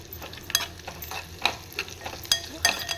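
Bombil (Bombay duck) fish sautéed in a pan with onion, a soft sizzle under repeated sharp metallic spatula scrapes and taps at an irregular pace, close by and without talk.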